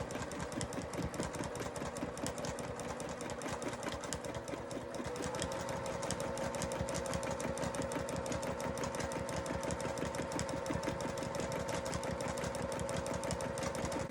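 Sewing machine running steadily throughout a machine quilting session, a fast, even mechanical stitching patter with a constant motor hum, close and continuous for the whole stretch.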